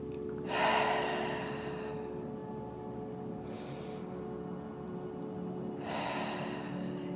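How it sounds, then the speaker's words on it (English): Slow, audible breaths taken during a guided relaxation exercise, a couple of long exhales sighing out at a steady, unhurried pace against a soft background hum. "just take a minute to breathe"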